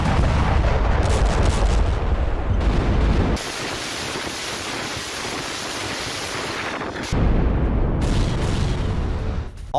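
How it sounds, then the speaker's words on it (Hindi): Russian artillery fires shells in Ukraine war footage, heavy booming blasts with loud rumbling wind-buffeted noise, a quieter lull in the middle before the roar returns. "ये देखिए किस तरह से रूसी सेना ने आर्टिलरी से गोले दागे।"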